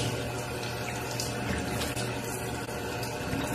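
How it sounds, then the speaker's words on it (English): A tap runs steadily while someone washes their face at a sink, a continuous close rush of water with small splashy variations and no talking. "So now I wash my face off."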